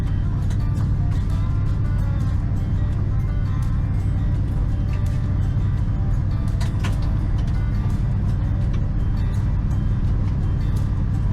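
Cab interior of a 1980 Ford F-350 service truck driving on a road, a constant loud low engine and road rumble with occasional small rattles and clicks.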